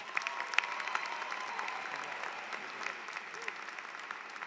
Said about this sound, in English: please welcome him with a round of applause, Riccardo Richburg